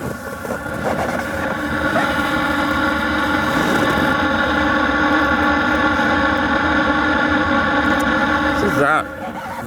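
A Webasto diesel parking heater fitted to a Kia e-Niro drones with a steady, rumbling mechanical hum that runs nearly the whole time, briefly dipping just before the end.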